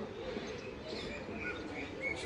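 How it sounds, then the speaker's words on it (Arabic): Birds call in a South African nature reserve, with faint scattered chirps and tweets over a soft, steady outdoor background. "كلها طيور مدفونة المحمية دي"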